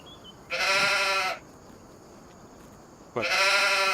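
Sheep in the Farming Simulator 25 video game let out two loud, close bleats, each about a second long, separated by a quiet pause.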